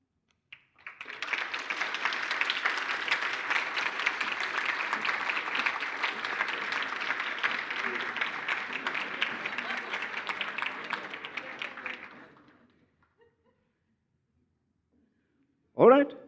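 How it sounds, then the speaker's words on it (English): Sustained applause from an audience at a mathematics foundation awards function, a full, even clatter of many hands lasting about eleven seconds before fading into silence, followed by a brief sharp sound at the very end. "A round of applause."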